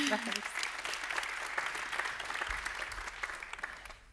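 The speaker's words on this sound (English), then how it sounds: "I think we should give him a round of applause first." Audience applause for a guest presenter at a collaboration talk, a steady wash of many hands clapping at moderate level throughout, with faint voices and low rumble underneath.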